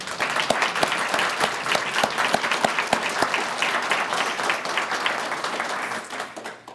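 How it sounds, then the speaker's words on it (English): An audience at a recognition program applauds steadily, many hands clapping together in a dense, sustained burst with a few louder individual claps standing out, gradually thinning toward the end. "I know we already did an applause, but we're going to do another one"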